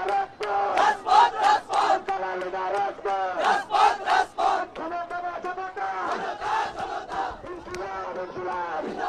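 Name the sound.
NCP supporters chanting slogans at a rally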